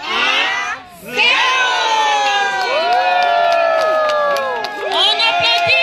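A large crowd cheers and shouts loudly at a ribbon-cutting after a countdown, with high children's voices and whoops rising over steady noise for several seconds.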